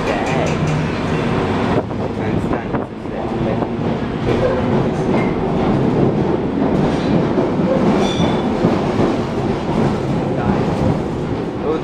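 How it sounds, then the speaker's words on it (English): A London Underground 1972 stock train on the Bakerloo line runs between stations with its cabin lights off, giving a loud, steady roar of motor and wheels with rattling and occasional faint squeals throughout. "I was enjoying filming this train with the lights off."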